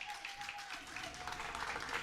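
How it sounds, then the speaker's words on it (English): Applause welcoming a women's basketball head coach on a coaches show, a brief, continuous patter of clapping from a gathered audience, with a faint steady tone running beneath it. "Let's get a warm round of applause and welcome to our women's basketball head coach"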